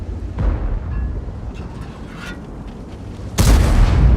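A heavy tank gun fires in World of Tanks, with a deep booming report near the start and another loud blast near the end over a rumbling battle background.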